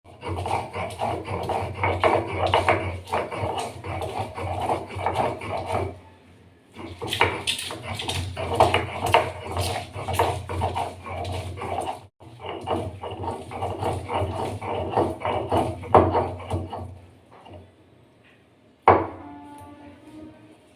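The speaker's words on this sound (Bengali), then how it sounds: "শিল নোড়াতে বেটে নেব এবার আদা রসুন কাঁচা লঙ্কাকে আমরা একসাথে" Ginger, garlic and green chili being ground together on a stone grinding slab, with repeated rough rhythmic scraping and knocking strokes in long sustained bursts, pausing briefly between runs and ending with a single sharp knock.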